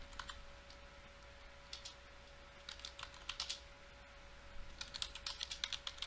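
Computer keyboard keys are tapped in short, irregular bursts of quiet clicks, pausing between flurries, over a faint steady hum in a quiet room with no talk.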